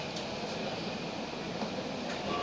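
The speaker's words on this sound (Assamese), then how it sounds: "এইটো এটা মেট্ৰ' ষ্টেচন" A metro train rumbles at a metro station, a faint, steady hum of rolling carriages and track noise with a few soft clicks, no voices.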